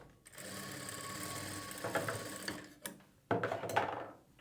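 A sewing machine stitches a blouse sleeve onto the shoulder seam in a rapid mechanical whir. It runs in a burst, pauses with a few clicks, then starts again briefly.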